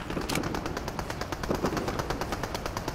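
Rapid automatic gunfire from a video game rattles continuously in loud, fast, evenly spaced bursts.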